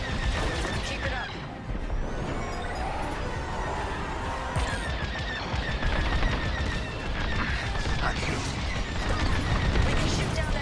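Starfighter cannons fire in rapid bursts during a Star Wars: Squadrons space battle, dense crackling volleys layered with explosions, engine roar and impacts, loud and continuous over game chatter.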